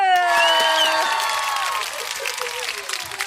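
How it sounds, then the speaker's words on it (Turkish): A crowd claps and cheers, with voices and a sustained vocal tone rising over the applause at first. "Alkış."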